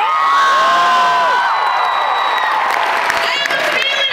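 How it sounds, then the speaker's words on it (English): An audience cheers and whoops loudly at a live spoken-word performance, a dense burst of shouts and applause that fades slightly, with a voice speaking at the end. "We're supposed to cheer because it's like so awesome."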